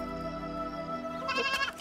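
A goat bleats in a Punjabi film scene, a wavering nasal cry near the end over a steady tonal background.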